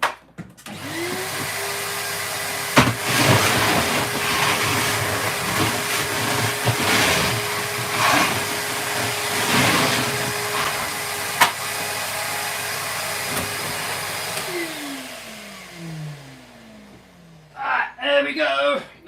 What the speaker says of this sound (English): Hoover coming on.